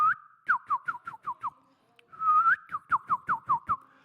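A person whistles at a pond to call carp, two clear bursts of quick, sharp, descending whistled notes, each opening with a longer held tone before six or seven rapid slurred chirps, loud and close with no talk.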